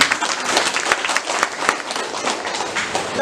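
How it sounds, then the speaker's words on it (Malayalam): Applause from an audience at a cancer awareness and regional evaluation meeting, a steady wash of many hands clapping, close and continuous for the whole stretch. "നല്ല കൈയടി വിട്ടാൽ"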